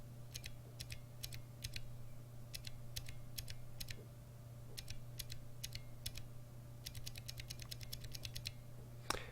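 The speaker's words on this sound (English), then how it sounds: "the blues actually have a very distinct sound with the Cherry and the Gateron" Typing on a keyboard with Gateron blue and Cherry MX mechanical switches, heard as quick bursts of sharp, crisp clicks in irregular clusters with short pauses over a faint steady hum, close and clear.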